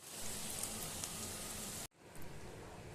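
Chicken pakora batter fries in hot oil, a dense, steady sizzle that cuts off abruptly, then resumes a little quieter, with no voices.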